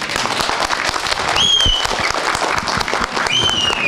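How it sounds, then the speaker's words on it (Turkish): Loud, dense crowd applause for a village headman at an outdoor gathering in Karaköy village, Buldan, Denizli, a steady wash of many clapping hands, with a couple of brief whistles rising above it. "Muhtarımıza bir alkış."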